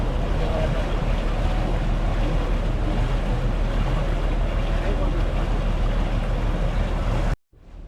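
A houseboat moving along the Alleppey backwaters in Kerala, steady engine rumble and rushing water with wind buffeting the microphone, continuous and close before cutting off at the end.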